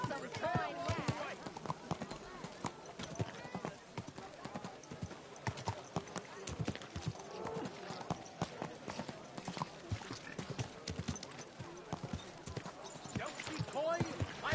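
Rapid horse hoofbeats in Kingdom Come: Deliverance II clip-clop steadily throughout, with voices speaking over them.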